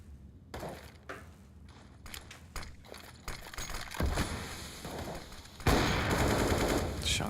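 Rapid gunfire in a Counter-Strike match, bursts of rifle shots cracking close and far in quick succession, building into denser overlapping fire toward the end.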